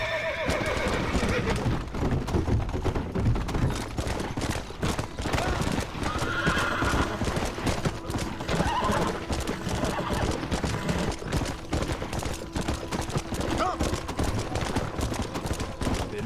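A horse gallops with rapid, continuous clip-clop hoofbeats and neighs in the video game Red Dead Redemption. The sound is loud and close, with faint game sounds underneath.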